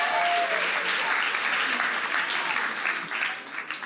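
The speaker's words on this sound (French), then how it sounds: "Non mais heureusement que vous applaudissez fort," Loud, sustained applause from a large audience at a film awards nomination night, dense clapping filling the whole stretch and easing slightly toward the end.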